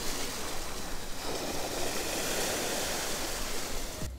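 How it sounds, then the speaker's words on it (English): Ocean waves lap steadily on a clean shore near Sitiawan, a continuous broad wash of surf that stays even and fairly close, with no voices over it. "You can just hear the ocean waves lapping over here."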